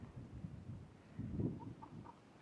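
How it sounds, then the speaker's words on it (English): Chickens at a small roadside animal pen in New Mexico give a few quiet, soft clucks over faint background noise, with a slightly louder burst near the middle. "You got some chickens down here."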